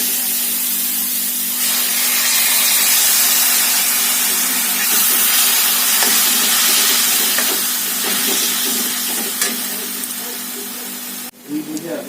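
Spices with Kashmiri chilli powder frying in a pan for a cashew paneer curry, sizzling into a loud continuous hiss as water is poured in, lasting about eleven seconds before fading into a few clatters.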